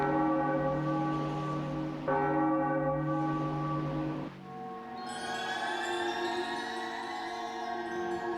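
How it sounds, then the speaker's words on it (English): A bell rings in The Legend of Zelda: Wind Waker, with resonant tolls that sustain and decay over a layered game music backdrop. "So do I just ring the bell and then come back down?"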